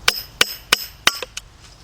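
Hammer blows knock a stuck water pump fan clutch loose on a GM truck such as a Trailblazer, Envoy or Colorado; four sharp metallic strikes land at a steady rhythm, followed by two lighter taps, close and loud with no talking.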